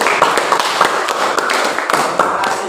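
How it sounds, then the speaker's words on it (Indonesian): Applause in a classroom, a small group of students clapping unevenly at close range, with sharp individual claps standing out over steady patter for a few seconds. "Oke, baik sekali, tepuk tangan dulu."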